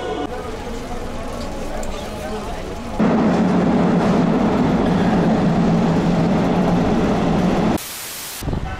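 A Cairo metro train in motion gives a steady rattling rumble from inside the car, which grows louder and heavier partway through and then drops away abruptly near the end.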